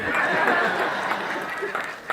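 Audience members at a stand-up comedy show clapping steadily as married couples respond to a prompt, a dense continuous patter of applause with crowd noise, lasting throughout.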